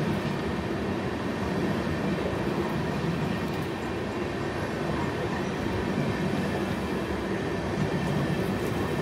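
A long-distance express runs nonstop between Brahmapur and Visakhapatnam, its wheels giving a continuous, even rumble on the rails, close and steady throughout with no break.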